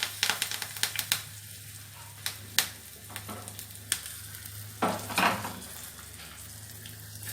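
Spices and curry leaves crackle and sizzle as they hit hot oil for a rasam tempering, sharp popping bursts scattered over a steady hiss, close and fairly quiet, with no talking.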